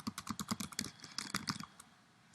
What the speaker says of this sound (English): So you can type in any kind of text you want.